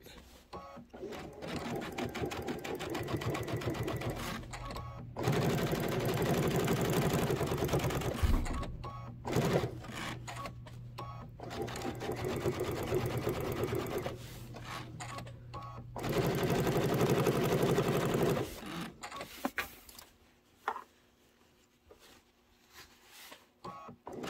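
A sewing machine with an automatic lifting presser foot stitches in several fast, close runs, rattling steadily, with short pauses between bursts and a softer quiet stretch near the end.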